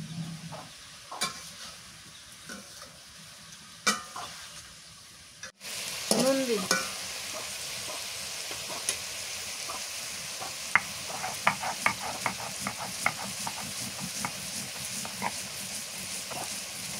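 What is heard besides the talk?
grinding chili, garlic, coriander leaves on stone shil-pata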